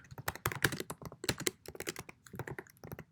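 Rapid clicky keystrokes on a computer keyboard while code is typed, an uneven close patter of taps with brief pauses.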